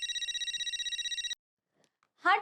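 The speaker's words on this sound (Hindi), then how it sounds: "अरे उसी का फोन है, तुमसे ही बात करना चाह रहा होगा।" A telephone bell rings in a fast, steady warble for over a second and then stops, followed by silence and a short burst of a voice.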